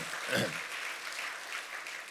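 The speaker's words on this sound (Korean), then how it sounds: "우리 박수로 영광을 돌립니다" Applause from the congregation at a spring church revival service fills the space as a steady, moderately loud wash of clapping, with a voice briefly rising over it near the start.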